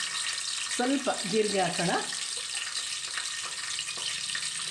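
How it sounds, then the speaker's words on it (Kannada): Mustard seeds crackle and pop in hot oil in a pot for a traditional avarekalu rice uppittu; a voice talks over the first half, then faint scattered pops continue under steady sizzling. "ಸಾಸಿವೆ ಚಟಪಟ ಅಂತ ಸಿಗುತ್ತಾ ಇದೆ"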